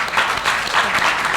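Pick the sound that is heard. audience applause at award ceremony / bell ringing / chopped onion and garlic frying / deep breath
audience applause at award ceremony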